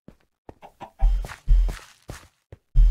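Chickens cluck in Minecraft survival play, a series of short close clucks and squawks in an uneven rhythm with quiet gaps between them.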